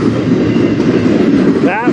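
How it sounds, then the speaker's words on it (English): A mail train rolls past at night in Fostoria, Ohio, a loud, close, continuous rumble with rhythmic clickety-clack from the wheels and a rising squeal near the end, while someone talks over it. "And this is a mail train."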